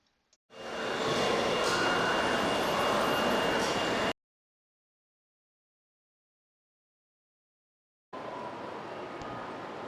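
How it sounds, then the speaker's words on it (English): Model trains running on a railroad layout as they round a bend into an industrial district, a steady close rumble and wheel clatter that cuts out completely for about four seconds, then resumes. "As trains pull away from Union Station, they round a bend and enter the industrial district of Anyton."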